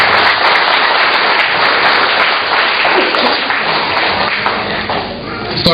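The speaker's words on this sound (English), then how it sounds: "And I think you should give him the loudest applause." Audience at a Philippine Navy awards ceremony applauds a dry goods cargo vessel skipper, with dense, loud, steady clapping sustained for several seconds and no talk over it.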